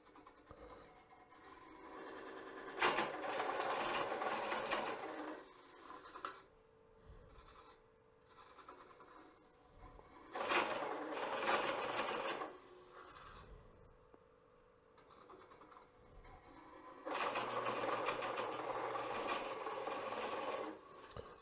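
Three loud rasping bursts of a Woodcut Bowlsaver Max4 coring tool cutting into spinning wood on a lathe, separated by quieter stretches, with the scraping tone shifting from one pass to the next.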